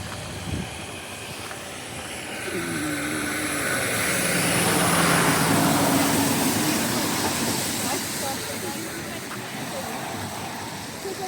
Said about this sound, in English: wait till the traffic stops